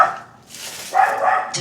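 A dog barks a few times in a cemetery at night, short harmonic yelps rising over a low background, with people chatting nearby.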